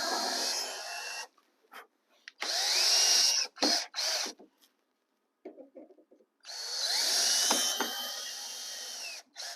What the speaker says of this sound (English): Now I want to countersink these holes on the top so the screw heads won't interfere with the roadbed